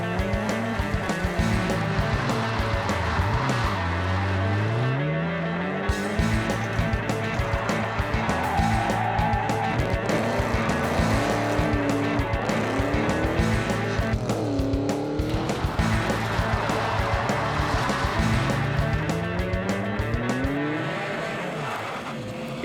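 Rally cars fling through handbrake turns around a tight bootlegger's hairpin at a Victorian rally, engines revving hard and rising in pitch through each turn as tyres squeal and skid, loud and continuous with repeated acceleration sweeps.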